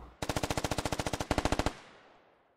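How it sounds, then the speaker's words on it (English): A machine gun laying down suppressing fire in the military shooter game Squad, a rapid, evenly spaced burst of about twenty loud shots that ends abruptly and leaves a fading echo, with no talk. "he's wasting ammo, suppressing the western hill"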